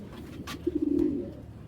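A giribaz pigeon gives one soft, low, rolling coo in the middle of the moment, with a faint flutter of noise before it and quiet background around it.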